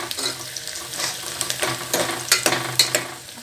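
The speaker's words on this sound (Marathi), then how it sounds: "गरम मसाला घालून हलवून घ्यायचा." Garam masala is stirred into chicken frying in a pan, with a steady sizzle under scraping, clattering spoon strokes that come close and loud over a few seconds.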